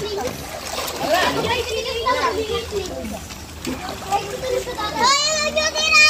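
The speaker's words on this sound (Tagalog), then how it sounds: "Mga bata naliligo." Children bathing outdoors splash and play in water, with irregular splashes under lively kids' voices and adult chatter close by.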